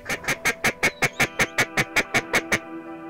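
A duck quacks in a steady rapid series of about fourteen evenly spaced calls during a duck hunt, close and clear with no talking.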